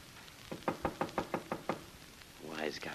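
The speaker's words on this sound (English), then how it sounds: "Wise guy knocking on his own door" Someone raps on a door seven times in a quick, even series of sharp, fairly close knocks, followed by a brief murmur of voices as people react inside a darkened room.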